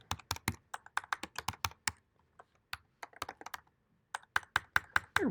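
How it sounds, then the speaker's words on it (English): Keys clatter on a computer keyboard in quick bursts of typing, close and fairly quiet, with a few short pauses between runs of keystrokes. "I really dislike this keyboard."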